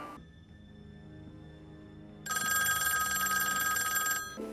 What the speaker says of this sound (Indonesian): Satpol Junho yang sedang mengumpulkan barang bukti mendengar suara telepon